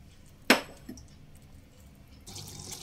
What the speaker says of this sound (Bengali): বাটি ধুয়ে অল্প জলও দিয়ে দিলাম